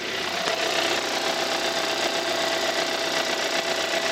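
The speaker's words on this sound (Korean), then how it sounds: "엔진 룸 열어놨고요 엔진 소리 한번 들어볼게요" A Hyundai Grandeur IG sedan engine idles steadily and evenly with the hood open, a continuous low hum with a faint regular ticking, no voices.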